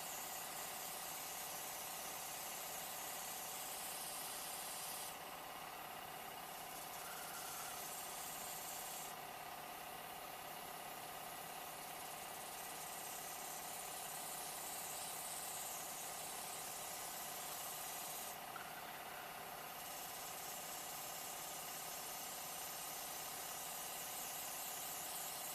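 Airbrush spraying foundation makeup, a steady close hiss with a faint mechanical hum beneath it, brief louder bursts of spray recurring.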